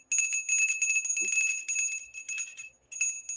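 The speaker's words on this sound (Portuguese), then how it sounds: "já ativa o nosso sino para não perder essas notificações" A rapid, bright bell-like ringing repeats in quick bursts, a metallic notification chime jingling near and loud with short gaps, sounding alone without talk.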